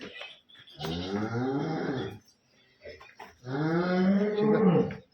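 Jersey and HF heifers at a farm, with two long, loud, close moos from a single animal separated by a short pause.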